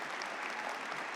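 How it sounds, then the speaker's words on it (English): Commencement audience at Adelphi University applauding General Colin Powell, a dense, steady wash of clapping from a large crowd. "Yeah, you should applaud him."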